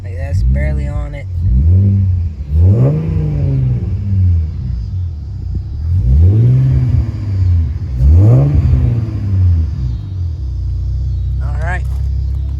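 A 2012 V6 Mustang engine, fitted with a new throttle body and throttle spacer, idles with a low rumble and is revved four times, each rev rising in pitch and then falling back to idle, loud and close, with a person talking at times.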